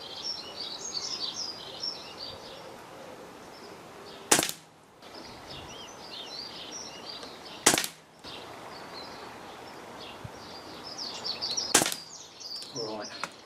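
A Daystate Renegade .177 air rifle fires pellets outdoors: three sharp, loud cracks spaced a few seconds apart, with steady birdsong chirping in the background between shots.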